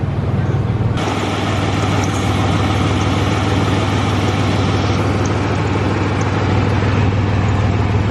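A supercharged Pontiac Grand Prix with a transmission that will not go into gear idles loudly and steadily close by, a heavy continuous engine rumble with a slight rise in tone after the first second.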